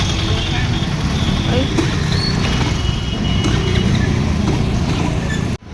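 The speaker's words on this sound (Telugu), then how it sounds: "ట్రాఫిక్ ఉందబ్బా" Dense road traffic around a motorbike rider heading to school, with engines idling and rumbling steadily close by and a continuous low drone throughout.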